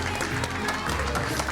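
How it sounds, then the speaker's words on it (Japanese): Warm applause from a wedding crowd greeting the couple, steady clapping filling the whole stretch at moderate loudness with a few voices mixed in. "大きな拍手でお迎えください。"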